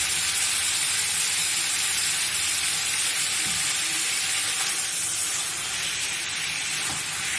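Meat sears in a pan with ghee and cardamom, a loud, continuous hissing sizzle with faint stirring bumps, holding steady throughout.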